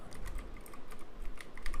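Rapid, continuous clatter of typing on a computer keyboard, close and crisp with irregular keystroke rhythm and no talk.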